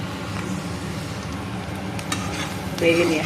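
Blue sea crab legs frying in a pan with curry leaves just added make a continuous hissing sizzle, with a couple of stirring scrapes near the end, close by and fairly loud.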